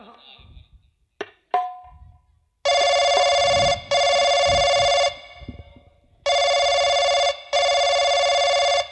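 A telephone rings at a police station in two loud paired bursts of electronic bell tone, preceded by brief voices and clicks, with low talk between the rings.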